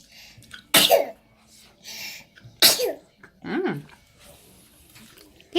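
Two sharp, loud sneezes burst out close by about two seconds apart, followed by a softer sniffing exhale, with quiet background murmur in between.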